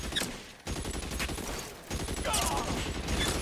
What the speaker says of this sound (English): They're shooting at us, some slight destruction there